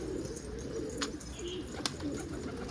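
Soft, low pigeon coos repeat in short phrases nearby, with a couple of sharp clicks and faint background noise.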